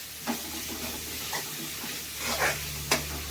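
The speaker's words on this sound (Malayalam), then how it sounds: "ഇനി അതിലേക്ക് നമുക്ക് ചതച്ച് വെച്ചിരിക്കുന്ന വെളുത്തുള്ളി ഇഞ്ചി ഇട്ട് കൊടുക്കാം." Crushed garlic and ginger frying with onions in a pan for Kerala-style liver fry, with a soft steady sizzle and a few scraping stirs, quiet and close with no talk.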